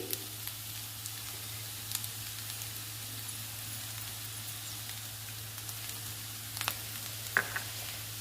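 Pieces of ivy gourd frying in a pan give a steady, moderately quiet sizzle with a low hum underneath and a few brief crackles and stirring clinks toward the end, with no voices.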